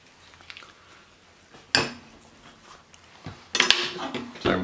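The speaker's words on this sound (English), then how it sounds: "Avocado, just simply pop out the seed, put our avocado right into the bowl." Avocado halves drop into a kitchen bowl with a sharp knock, then more clinking and thumping of dishes and utensils, close and moderately loud against a quiet background.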